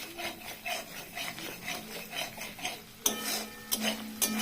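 Masala fries slowly in a pan as a spoon rubs and scrapes through it in steady, rhythmic strokes, close and fairly quiet, with a few sharper metallic clinks near the end.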